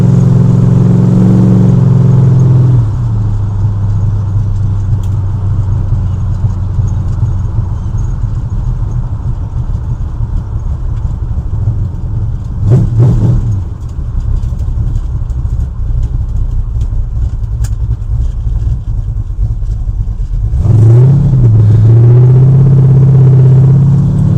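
A 1968 Ford Thunderbird V8 idles with a deep, steady rumble, exhaust closed, swelling into a couple of brief revs before settling back to a loud, throaty idle.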